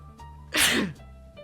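One sharp, loud sneeze bursts out close by, a quick breathy explosion over a low steady hum.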